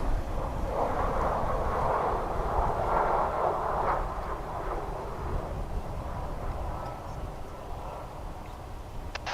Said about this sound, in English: A successful touchdown.